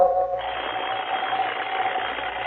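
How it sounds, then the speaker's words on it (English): An alarm clock goes off in an old radio detective drama, a loud, steady buzzing ring that starts abruptly and continues without pause. "Coming awake, I heard the alarm we'd set go off."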